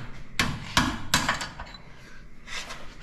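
A few sharp metallic hammer strikes on a punch, knocking out the shocks of a 1976 Cadillac Eldorado, ring out, three close together, then a softer knock after a brief pause.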